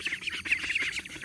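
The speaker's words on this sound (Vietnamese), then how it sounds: "Vịt, vịt, vịt, vịt, vịt. Nuôi mấy chú vịt này để đây" Ducks kept as ornamental birds by a small dammed stream and pond quack and squawk close by in a rapid, uneven series of raspy calls, with no talking heard.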